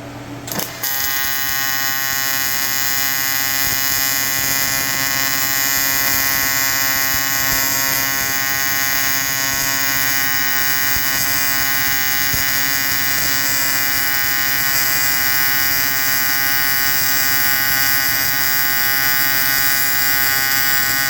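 TIG welding on aluminum, laying a long stitch weld in a shop, makes a steady, loud electric buzz with a bright hiss that runs unbroken for about twenty seconds after a brief start-up crackle.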